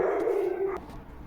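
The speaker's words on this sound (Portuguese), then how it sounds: "esperar os cachorros pararem de latir" A single dog gives a short whining bark nearby, then the sound drops away into quiet background.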